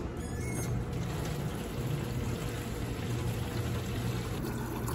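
Water runs steadily from a small filtered faucet into empty containers being filled for pets' water, a constant close pouring rush lasting throughout with no talking.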